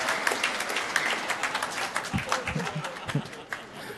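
A church congregation at a Mass homily claps loudly in a sustained burst of applause, with scattered voices and laughter mixed into the clapping.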